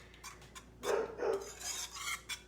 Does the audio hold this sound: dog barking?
yes